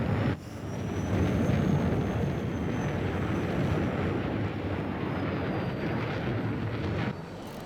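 Enemy aircraft roaring overhead in the video game Battlefield 6, a loud sustained engine rumble with a faint high whine, steady for several seconds before easing off.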